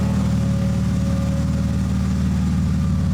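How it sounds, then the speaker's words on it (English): A BMW E36 engine with a manual transmission swap idles steadily at about 600 rpm with a low, even rumble and a faint constant hum, exhaust audible, no revving, close by and uninterrupted. "The car is idling at about 600 right now."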